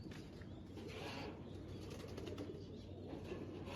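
Pigeons, Babu-breed birds among them, coo softly at a home loft while wings flutter in short bursts over a steady low background hum.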